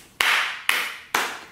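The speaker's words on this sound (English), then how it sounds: "Becca needs a round of applause" Three sharp, loud hand claps, evenly spaced about half a second apart, each ringing briefly before the next.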